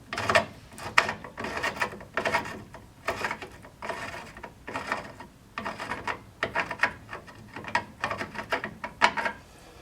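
A hand tap cuts threads into aluminum in a workshop on a 1957 Chevy, giving repeated rasping, scraping turns in short bursts, close and fairly quiet, with brief pauses between strokes.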